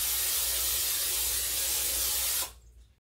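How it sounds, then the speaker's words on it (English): Cooking spray hisses steadily from a can onto a muffin tin, one continuous close spray lasting over two seconds before cutting off. "lightly spray it with some cooking spray"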